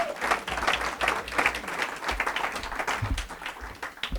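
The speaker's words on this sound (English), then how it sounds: "Let's give Tim a big round of applause." Audience at an evening policy event applauding, giving steady, dense clapping that fills the room and sounds close and sustained throughout.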